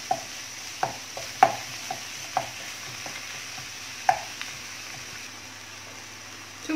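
Chicken breast fries in a pan with mushrooms and peppers, a steady low sizzle broken by several sharp utensil taps and scrapes as the food is stirred and spread.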